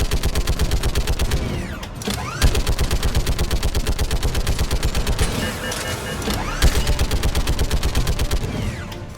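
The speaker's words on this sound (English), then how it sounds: "the guns are already picking Cerberus ships out of the sky" Heavy automatic gunfire from guns shooting down Cerberus ships in Mass Effect 3, loud, rapid, continuous bursts that pound steadily with brief pauses, close and dense.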